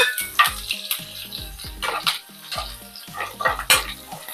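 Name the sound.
dried red chillies and curry leaves frying in tempering oil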